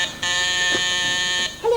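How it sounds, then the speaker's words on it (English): A video entry phone door buzzer sounds one long, steady, loud electronic tone for over a second, and a voice starts right after it. "Press the buzzer."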